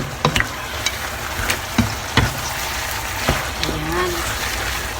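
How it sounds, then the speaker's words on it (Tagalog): Noodles simmering in broth in a pot, a steady low bubbling hiss with a few sharp clinks and taps of a utensil against the pot scattered throughout. "Hayaan lang po natin siyang medyo mawala yung konting sabaw niya para maluto pa po lalo yung noodles."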